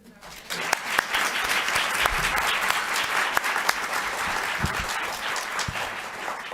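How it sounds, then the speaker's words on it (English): An audience at a nuclear fusion announcement event applauds its panelists with a steady wash of clapping, loud and continuous, with a few sharper individual claps near the front. "I think a round of applause for our panelists"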